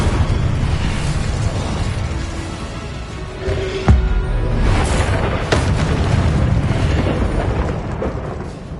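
A booming Incendio fire-spell explosion in the Hogwarts Legacy video game bursts out sharply in the middle, followed by rumbling blasts and sustained roaring combat noise; no voices are heard.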